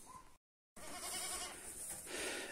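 Goats bleat and feed at a newly built feeder on a farm, with a brief gap of silence before steady close animal sounds and rustling continue.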